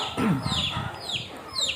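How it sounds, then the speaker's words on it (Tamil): Chickens kept at a temple cluck and squawk close by in a busy, overlapping chorus, with faint background voices mixed in. "கோயிலுக்காக நிறைய உதவி பண்ணும் கோழிகள் நல்ல ஆரோக்கியத்தோடு நல்ல சத்தாக இருக்கட்டும்"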